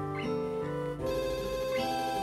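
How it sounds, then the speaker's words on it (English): A soft phone ringtone plays in the visual novel Katawa Shoujo, a steady melodic electronic tune with repeating tonal phrases and a brief dip near the middle, alone and fairly quiet. "A soft ringing gives us pause. As Lily reaches into her pocket, it becomes obvious that the sound's coming from her phone."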